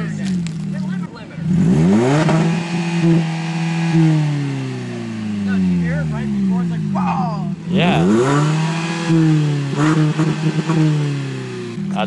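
Repeated aggressive revs from a loud 1.8-liter car engine with a muffler delete, each roar rising and falling back to a throaty idle, with a brief voice between.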